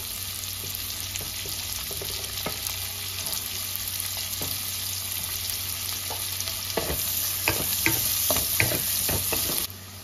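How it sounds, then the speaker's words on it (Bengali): Chopped onion with garlic frying in a pan gives a constant close-up hiss and sizzle, broken by repeated spatula scrapes and stirring clatters that get busier toward the end before cutting off. "কুচনো পেঁয়াজটা দিয়ে দিলাম।"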